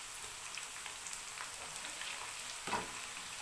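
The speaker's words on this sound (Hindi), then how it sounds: "ऑयल को गरम किया और प्याज डाल देते हैं। थोड़ी देर प्याज को करते हैं फ्राई।" Onions frying in hot oil give a soft, continuous sizzle and crackle, quiet and close, with a slightly louder pop or stir near the end and no talking.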